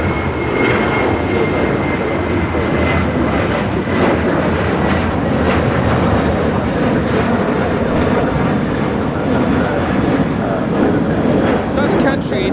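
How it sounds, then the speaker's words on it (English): A Sun Country Boeing 737-800 jet taking off at a large airport, its engines producing a loud, constant broadband roar with a steady whine throughout. "Sun Country"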